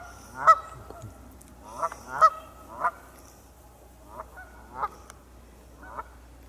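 Upset geese honk in a scatter of loud, sharp calls, some doubled, spaced irregularly over a quiet low background hum.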